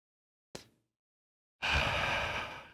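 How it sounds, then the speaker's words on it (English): A single slow, deep breath during a focus and breathing practice: a short faint intake, a pause, then a longer soft exhale close to the microphone. "I'm making a breathing sound so you know that I'm practicing here"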